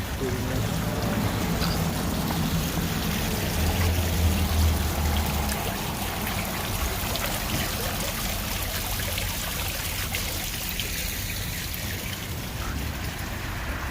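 A small waterfall pours and splashes in Healdsburg, giving a steady, close rush of flowing water that holds even for the whole stretch, with faint voices now and then.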